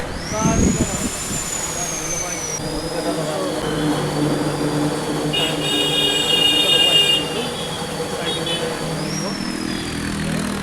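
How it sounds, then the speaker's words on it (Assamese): Beside a TVS vehicle dealership, a welding machine whines and a rod is cut, giving a sustained high metallic tone with grinding and clanking over a busy outdoor background. "গাড়ীৰ ডিলাৰখনৰ ছাইডতে ৱেল্ডিঙৰ মেচিন এটাৰ মানে মাতটো ওলাই আছে, আৰু কিবা ৰড কাটি আছে নেকি সেনেকুৱা"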